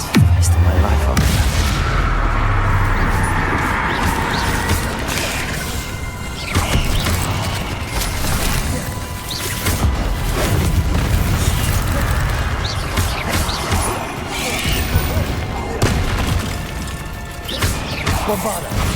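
Repeated Bombarda blasting-spell explosions in the Hogwarts Legacy video game, a dense run of loud crashing, clattering impacts and bursts lasting throughout, with game effects layered on top.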